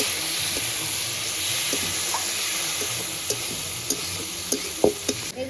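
Shukto, a Bengali vegetable curry of eggplant and raw banana, is stirred in a pan, a soft constant sizzle broken by a few light scraping knocks of the spoon toward the end, with no voices.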